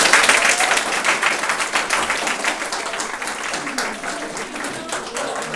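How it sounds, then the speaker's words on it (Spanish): A school audience gives a strong round of applause for a former student, dense rapid clapping that stays loud and even throughout with no talk. "Fuerte el aplauso también"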